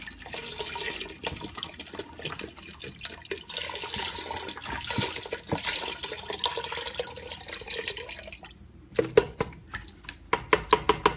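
Seafood stock, a full quart, pours into a gumbo pot as a steady liquid wash lasting several seconds, followed near the end by a few distinct drips and splashes.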